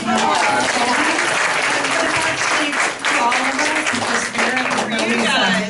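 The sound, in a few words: congregation applauding Colby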